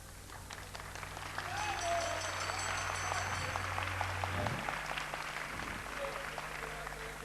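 An audience claps along at a Hindu sankirtan devotional gathering, a dense steady wash of applause rising after the first second and holding on, with music and voices mixed underneath.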